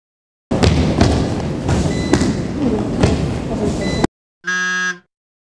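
A sharp electronic buzzer sounds once for about half a second during a university sports practical test, following several seconds of dense, noisy thumping and clatter, loud and close.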